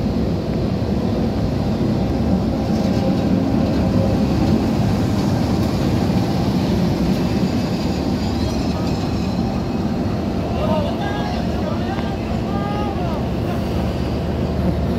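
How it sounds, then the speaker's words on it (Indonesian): A locomotive shunts with the Argo Anjasmara train set, giving a loud continuous rumble with some wind buffeting and faint squeals near the end, and no clear talk. "Lokomotif melengkung, persiapan langsiran Argo Anjasmara."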